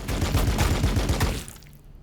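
Rapid gunfire in the video game Warhammer 40,000: Battlesector comes as a quick burst of repeated shots for about a second and a half, then cuts off into quiet.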